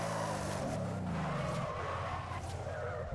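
A Ford Raptor R pickup truck in the Forza Horizon 5 video game drifts through a spin, its tires squealing in a sustained, sliding howl over the engine roar, loud and close, with no talking.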